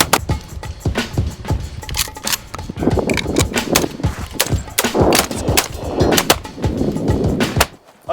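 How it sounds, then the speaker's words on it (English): Handgun shots striking a propane tank outdoors in a desert, giving a rapid series of sharp, loud gunshot cracks with metallic pings and clangs close by, no talk. "Can you hear that? That bing? That's hitting the propane tank."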